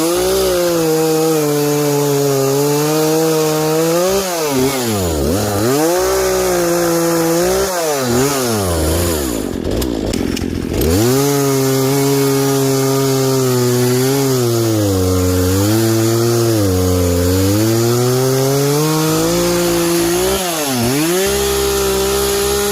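A chainsaw cuts through cherry wood, its engine droning loud and close with pitch repeatedly dipping and rising as the chain bogs into the log, a brief rev change midway.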